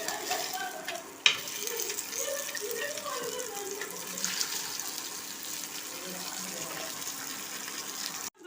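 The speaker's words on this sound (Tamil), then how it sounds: "மீன் வறுவல் ஒரு பக்கம் வந்துருச்சு. மறுபக்கம் திருப்பி போட்டுக்குவோம்." Fish fried in a pan for a home feast gives a steady, moderate sizzle and crackle throughout, with one sharp clatter early on, like the pan or the fish being moved or turned.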